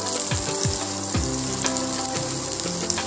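Potatoes, onion, ginger and chili fry in oil, giving a steady close sizzle broken by a few scraping stirs and soft knocks. No one speaks.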